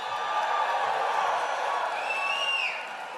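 A large crowd of seniors at a political rally in the Villages, Florida, cheers and whoops in a dense, steady roar, with a few shrill whistles rising above it before the noise eases slightly.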